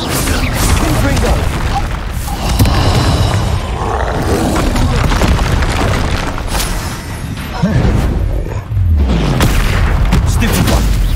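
A Confringo spell explodes in the Hogwarts Legacy video game, loud booming blasts and roaring rumble filling the scene continuously amid dense combat noise, with voices speaking over it.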